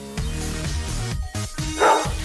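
A dog barks a few times in quick succession, fairly close, with a busy background of other sound underneath.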